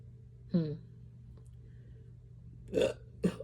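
Three short, low throaty burps, one early and two close together later, fairly faint over a quiet humming background.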